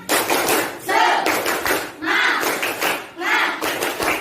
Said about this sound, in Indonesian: Sebelum ditutup, tepuk semangat.